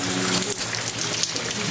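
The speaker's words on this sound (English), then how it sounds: "And we're still raining." Steady rain falling outdoors in October woods during a whitetail deer bow hunt, a dense close patter of drops on surfaces throughout, with no talking.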